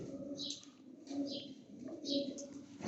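Pigeons coo in a loose repeating rhythm of about three soft phrases, each with a faint airy tweet above. The sound is nearby and moderately quiet, with soft background noise from a pigeon loft.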